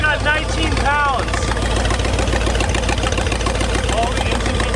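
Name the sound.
abandoned muscle car engine idling after first start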